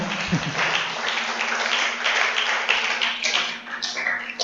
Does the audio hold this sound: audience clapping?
yes